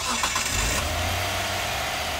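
A Mitsubishi FTO at a car meet in New Zealand idles roughly and unevenly, a close, steady engine rumble over about two seconds with a slight uneven pulse.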